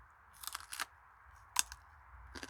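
Crispy pork rinds crunch in the mouth with several sharp, close bites, then quieter chewing in between. The sound is faint, set against a low, steady background.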